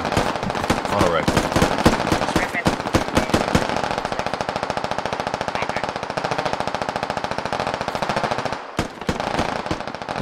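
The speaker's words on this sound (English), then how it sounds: "Toaster's got him pinned down with that AA over there, that auto rifle." Automatic rifle fire rattles in long, dense bursts during a firefight in the military shooter Squad, loud and continuous with a brief break near the end.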